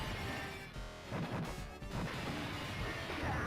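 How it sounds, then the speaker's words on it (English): Glass smashing in the Final Fight arcade beat-'em-up, a dense burst of crashing breaks with short gaps near the one- and 1.8-second marks, loud and continuous under game music, no voices. "Why are we breaking all this glass?"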